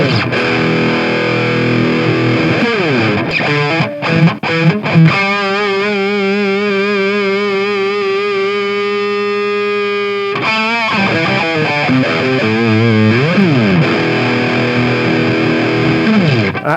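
A cheap electric guitar with distortion plays alone: choppy strummed chords, then a long sustained chord with wavering vibrato, then more strummed chords with bends.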